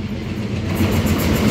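A WDM diesel locomotive hauling the Tirupati to Puri Express passes close by, a loud steady heavy rumble with low engine throb and wheel noise, no voices.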